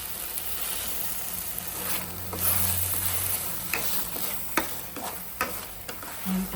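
Tomato and onion paste frying and being stirred in a pan for palak paneer, a steady sizzle with scraping stir strokes and occasional sharp spatula clinks, close and alone without voices.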